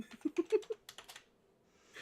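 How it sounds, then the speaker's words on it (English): A rapid run of typing on a computer keyboard, several close quick keystrokes, fades into quiet with a soft hiss at the end. "I'm just typing out a poll"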